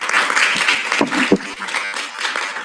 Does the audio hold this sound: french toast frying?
no